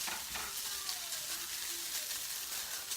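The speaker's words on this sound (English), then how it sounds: "cooking the bacon right now" Bacon fries in a pan with a continuous crackling sizzle, dense and evenly loud throughout, close up and with no one speaking.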